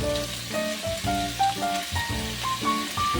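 Potatoes and carrots cook in a pan for igado, giving a steady close-up sizzle while a melody with rising tones plays over it.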